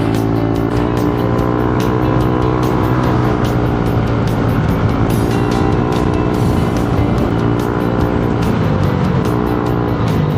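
Loud, continuous engine and exhaust roar from a Yamaha Aerox V2 scooter being ridden, a steady droning rumble with no break for the whole stretch.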